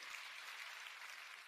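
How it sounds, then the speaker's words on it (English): A seminar audience applauds steadily, a faint, even wash of clapping heard from a distance with no voices over it. "to help wake you up, shall we give a round of applause?"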